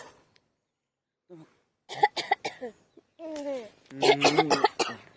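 A child with a cold coughs several times in short bursts, close by, mixed with brief vocal sounds and quiet pauses in between.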